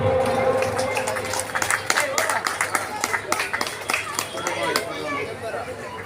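An audience at a Ramlila committee honour ceremony in Shankarpur, Cuttack, claps to felicitate an artist: a burst of scattered, moderately loud hand claps with a little crowd murmur in the background, tapering after several seconds.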